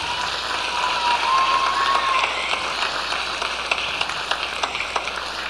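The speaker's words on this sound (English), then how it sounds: "Let's give her a round of applause" An audience at a 1985 high school pop ensemble concert applauds, a roomy wash of clapping on an old recording with a thin steady tone running through its first half. Individual claps pop out near the end.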